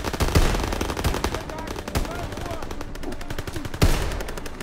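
Gunfire in the Call of Duty WWII campaign on PC: rapid, loud automatic bursts and single shots crack in quick succession, thick and close, with brief louder reports mixed in.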